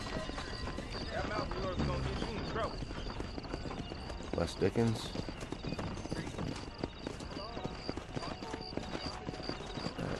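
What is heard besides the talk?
horse hooves clip-clopping in video game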